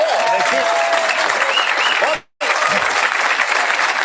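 Studio audience applause on a 1993 television talk show, loud sustained clapping from a crowd with a brief cut to silence midway before the applause resumes just as full.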